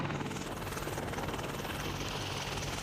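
AH-64 Apache attack helicopter in flight, a steady, dense rotor and turbine roar with low thudding blade pulses that holds at a constant loud level throughout, with no voices.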